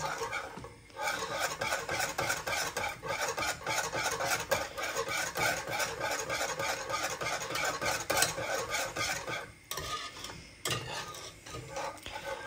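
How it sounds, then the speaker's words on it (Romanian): A whisk stirs balmoș with sour cream in a pot, giving a steady rapid scraping and rasping with a brief pause near the end, close and continuous, with no talking. "luăm telul și amestecăm"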